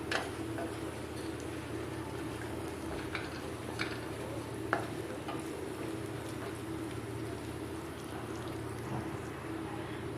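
Cumin and whole round red chilies frying in hot oil for Lucknowi mash daal, a soft, steady sizzle with faint crackles and light ticks throughout, and no talking.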